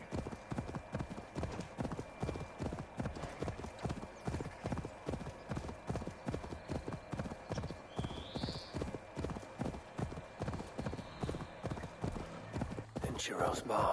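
A horse gallops in a video game, its hooves beating a fast, steady clip-clop rhythm for the whole stretch, with a brief whinny partway through and someone talking over it.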